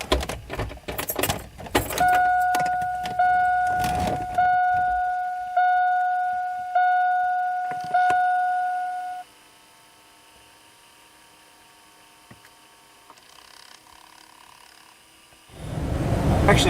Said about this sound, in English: let's see if we can hear that blend door actuator try to learn its position